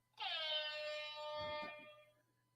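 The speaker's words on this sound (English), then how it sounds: "I gotta give him another air horn." A single loud air horn blast, used as a sound effect, holds a bright, steady blare for about two seconds and then drops off, with nothing else around it.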